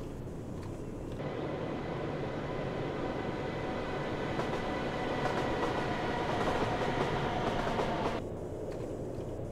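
Train Simulator 2018 train braking into Stratford, a steady rumbling roll with faint clickety-clack, swelling slightly before easing off as it slows near the end.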